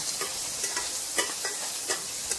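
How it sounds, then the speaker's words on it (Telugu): Chopped capsicum and green chillies, seasoned with salt and pepper, are stir-fried on high flame, making a steady bright sizzle broken by several sharp scrapes and stirring clatters of a spoon in the pan. "దానిలో కొంచెం సాల్ట్, పెప్పర్ పౌడర్ వేసి 2 నిమిషాలు హై ఫ్లేమ్లో కలుపుకోవాలి"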